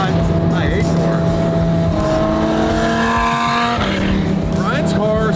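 Tuned car with an aftermarket exhaust revs nearby, its loud engine note climbing and dropping in sustained, throaty sweeps while voices talk over it.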